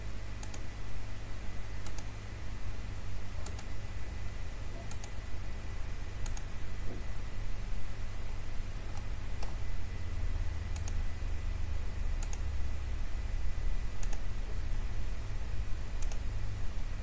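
Computer mouse clicking while modelling in FreeCAD 0.19: a dozen or so sharp, isolated clicks spaced a second or two apart over a steady low hum, with no talking.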